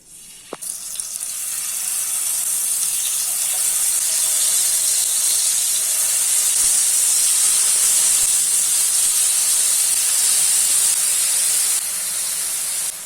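Marinated chicken tikka pieces frying in hot oil in a pan over a medium flame, a loud, steady hiss and sizzle close by that continues unbroken throughout.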